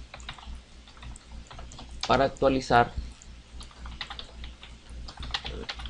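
Rapid clicking of a computer keyboard as code is typed, a continuous patter of close, light key taps, while someone speaks briefly in Spanish in the middle.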